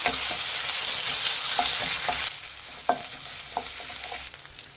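Ginger garlic paste and four lengthwise-cut green chillies frying in oil, with a bright hissing sizzle that drops off halfway, then scattered scraping stirs close by.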